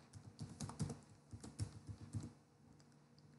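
Rapid keystrokes on a computer keyboard as a username is entered at a login screen, a close run of uneven clicks that thins out toward the end, with no voices.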